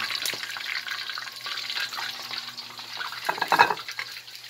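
Chicken frying in oil in a pan, a continuous moderate sizzle with occasional stirring clatter and a brief louder spatter near the end, no talk over it.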